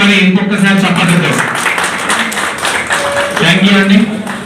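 An audience claps at a hotel and allied industries welfare association meeting, with steady, dense applause running throughout while a voice speaks over it.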